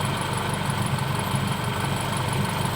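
A car engine idles close by with a steady, rough, vibrating drone and a faint knocking pulse, running alone without voices.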